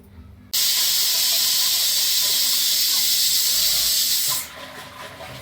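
A pressure cooker whistle releases a loud, steady high-pitched steam hiss that bursts out abruptly, holds for about four seconds, then cuts off, leaving a faint background hum.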